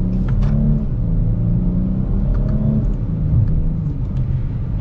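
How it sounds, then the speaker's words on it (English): A 2022 Dodge Charger SXT AWD accelerates hard, its engine rising in a loud, close rumbling drone through quick gear shifts, with no one speaking. "let's get our acceleration here with the Charger."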